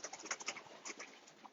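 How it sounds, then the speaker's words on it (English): Racing pigeons flap past and coo at a club loft during feeding time, giving a brief, close flutter of wings with soft calls and no voices. "Here, you're going to see the birds fly by you."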